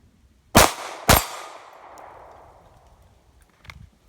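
Two sharp, loud pistol shots from a Glock 42 fired as a quick double tap, close by, with a ringing decay afterward and a faint clatter near the end.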